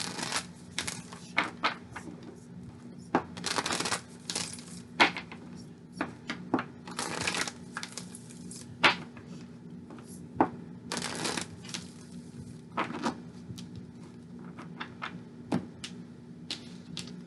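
Tarot-style love reading cards being shuffled by hand, a run of crisp riffling and slapping bursts repeating irregularly over a steady low hum, fairly close, with no talking.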